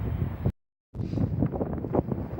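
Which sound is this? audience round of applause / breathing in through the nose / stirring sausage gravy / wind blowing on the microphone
wind blowing on the microphone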